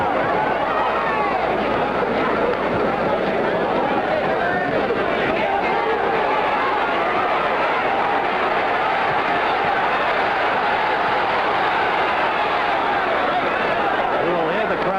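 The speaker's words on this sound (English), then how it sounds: "You will hear the crowd screaming continually every time Ellis makes a move." The crowd at a heavyweight boxing bout between Jimmy Ellis and Oscar Bonavena keeps up a constant dense roar of screaming and cheering, steady and loud with no breaks throughout.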